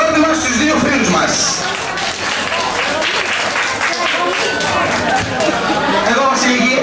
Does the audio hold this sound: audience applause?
yes